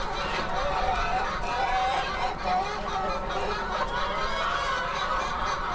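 Laying hens clucking inside a crowded poultry farm, a dense, continuous chorus of many overlapping clucks at steady loudness with no talk over it.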